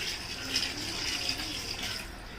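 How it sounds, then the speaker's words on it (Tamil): Mutton cooking water pours in a continuous, steady gush and splash into a cooking pot for a couple of seconds, close by, with no talking. "இப்போது மட்டன் வேக வச்ச தண்ணியும் இதில் ஆட் பண்ணிக்கலாம்"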